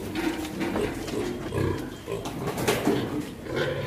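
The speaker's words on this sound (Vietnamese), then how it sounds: "đây là đàn heo 10 con của mình" A pen of ten pigs, some being treated for pneumonia with labored breathing and coughing, grunts and squeals at feeding time, a busy overlapping chorus of snorts, close and continuous with a voice briefly underneath.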